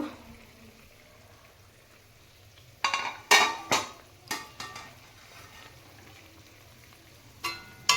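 A metal lid is lifted off a pot of simmering puti fish and radish curry, giving a few sharp clanks and rattles in a quick cluster, then a couple more near the end over a quiet background.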